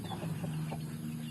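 Chickens clucking softly on a poultry farm, several short irregular clucks over a steady low background hum, fairly quiet and continuous.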